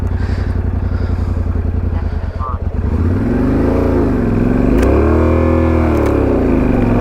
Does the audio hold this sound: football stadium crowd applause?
no